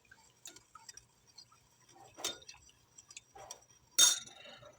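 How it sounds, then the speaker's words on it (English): A spoon stirs a tablespoon of beef broth into a cup of hot water, giving faint scattered clinks and taps against the cup, quiet and close, with a sharper clink near the end. "Stir that up a little bit."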